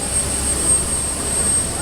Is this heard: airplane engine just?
yes